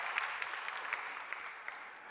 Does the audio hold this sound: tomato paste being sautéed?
no